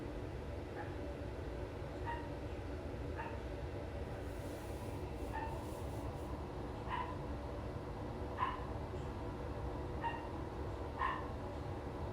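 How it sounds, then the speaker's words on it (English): A dog barks in short, spaced bursts, several times over the clip, somewhat distant over a steady low background rumble. "She's so cute, but that barking"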